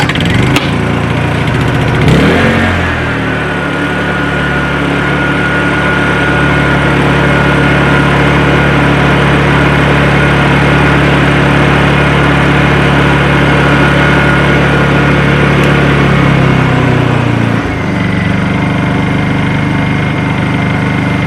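A Honda EU2000 inverter generator pulls into life with a brief start-up burst, then holds a loud, steady engine drone close by for most of the stretch before cutting back near the end.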